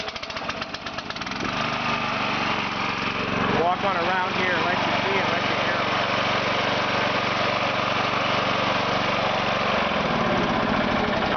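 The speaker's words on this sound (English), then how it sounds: "Dave's going to go ahead and start this engine for us." The engine of a pump mounted on a tank truck cranks and catches, then runs at a steady, loud, buzzing idle close by, while someone talks over it.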